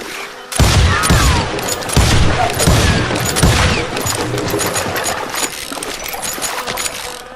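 Rapid gunshots in the western shooter Call of Juarez: Gunslinger, a loud fusillade of close, overlapping reports that starts abruptly, then settles into sustained scattered fire with a continuous bed of battle noise.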